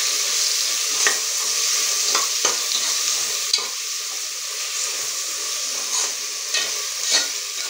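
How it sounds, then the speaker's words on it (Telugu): Ginger and shallot paste fries in hot oil in a pan, a steady hissing sizzle broken by light scraping knocks from stirring at irregular intervals, close and unaccompanied by voices. "అల్లం, చిన్నులపాయల పేస్ట్ వేసుకున్న తర్వాత బాగా తిప్పుకోవాలి"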